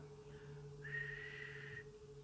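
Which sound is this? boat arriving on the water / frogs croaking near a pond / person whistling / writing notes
person whistling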